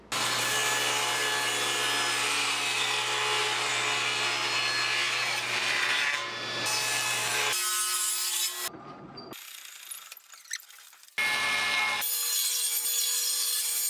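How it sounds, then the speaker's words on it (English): A table saw rips 3/4 inch plywood into French cleats. A loud, continuous, close whine of blade through wood runs for several seconds, then breaks into shorter cuts separated by abrupt silences. "Now I'm gonna head over to the table saw and cut my French cleats out of this 3/4 inch plywood."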